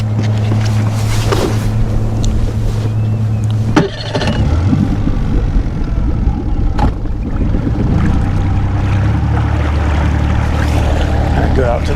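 Bass boat outboard engine on Guntersville Lake cranks over and settles into a steady, loud low running drone with water and wind noise, continuing throughout.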